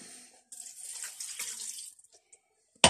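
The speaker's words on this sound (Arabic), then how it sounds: "هاهوما كندير كاس ديال الماء" Water pours into a glass in a kitchen in a short, soft trickling splash lasting about a second and a half, quiet and close, followed by a brief sharp clink at the very end.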